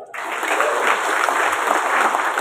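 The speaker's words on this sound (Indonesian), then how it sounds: "Tepuk tangan." Audience applause at a village head inauguration and swearing-in ceremony in Banyumas, starting abruptly and continuing as a dense, loud burst of many people clapping, with no speech over it.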